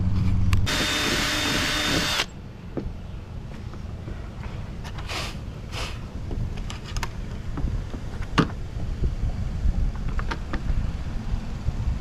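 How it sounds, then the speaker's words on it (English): A power drill whirs loudly for a couple of seconds while installing gear on a kayak, then stops, leaving a low rumble with scattered knocks and clicks. "get ready to drill this up."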